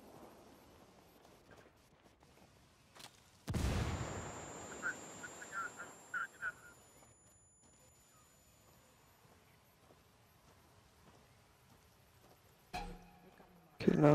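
A grenade goes off in the competitive multiplayer shooter Ghost War during a pro league match: one sudden, loud, close blast that decays over a few seconds, followed by scattered small clicks and ticks, with players talking intermittently.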